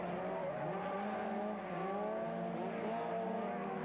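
Rallycross race cars brake and jostle for position through a corner, their engines blending into a loud, sustained roar with shifting pitch and faint tire noise, heard from a distance without voices.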